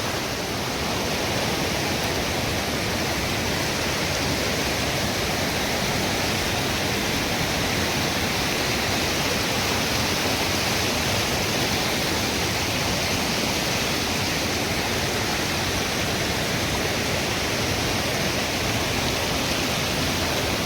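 A Himalayan mountain river on the alpine trek to Satopanth Lake roars with a constant, dense rush of whitewater, loud and close throughout while it is being crossed on foot, with no voices over it.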